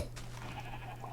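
A sheep in the Minecraft video game gives a short, faint bleat with a steady low hum beneath it.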